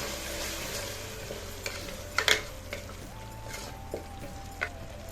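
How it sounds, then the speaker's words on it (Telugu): Salt, chilli powder and coriander powder being stirred into tomato rice frying in oil, a steady sizzle with a few sharp scraping clicks of the spoon against the pan, close and fairly loud. "ఇవన్నీ వేసుకుని ఒకసారి బాగా మిక్స్ చేసుకుందాం"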